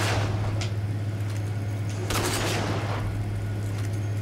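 A couple of sharp gunshots in the post-apocalyptic shooter game Rage, cracking over a low steady hum, one early and a stronger one about halfway through, fairly quiet overall.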